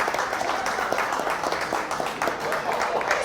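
Audience applause at a scholarship fundraiser brunch for Bowie State, a steady wash of clapping filling the room for a few seconds, with voices mixed in.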